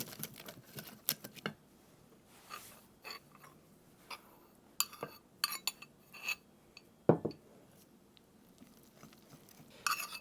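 A spoon taps and scrapes against a bowl while flour is stirred into squash muffin batter, giving irregular close clinks and knocks with quiet gaps between them and no talking.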